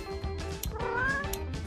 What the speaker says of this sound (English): Meet our cute robot cat.